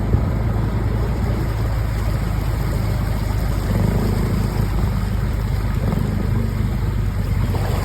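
A car pushes through deep floodwater, a constant loud rush and churn of water with a low engine rumble underneath.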